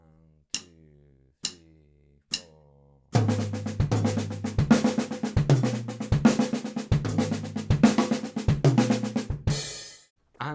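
Drum kit chop with a right-left-right-left-left-kick sticking: four sparse count-in clicks, then a fast, dense run of snare and tom strokes with regular kick accents, loud and close, ending in a ringing cymbal wash.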